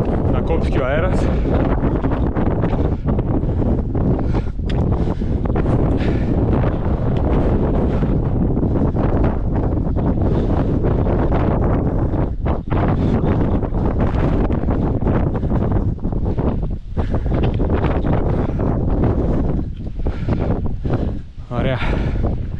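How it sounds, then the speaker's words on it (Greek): Strong wind roars and buffets the microphone continuously in the Agrafa mountains, a loud, rumbling gusty noise that persists throughout with little letup. "Να κόψει και ο αέρας."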